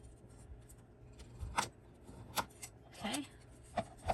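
Paper being folded over to form tabs, a few soft crisp creases and rustles spaced out, quiet and close, in a craft setting.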